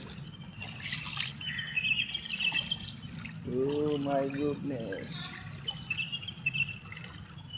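Rainwater from an overnight downpour drips and trickles softly and continuously nearby, while a voice exclaims briefly over it.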